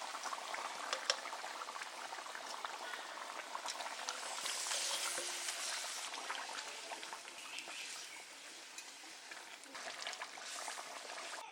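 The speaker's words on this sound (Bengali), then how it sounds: "ঝোলে জাল উঠে গেছে" Egg curry gravy bubbles steadily in a pot, a quiet continuous boiling hiss and pop that holds for the whole stretch, with faint voices in the background.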